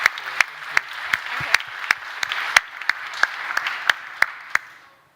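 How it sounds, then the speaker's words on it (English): An audience at an opening ceremony applauds, clapping of a modest group with a few sharp, distinct claps standing out before fading away at the end. "Big round of applause for the two of you and for your support."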